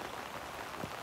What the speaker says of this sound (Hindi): तो जी इतनी तेज बारिश हो रही है